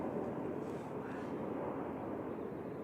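A Boeing 737-800 arriving at Manchester Airport heard as a steady, distant broadband jet rumble that holds level and faint throughout.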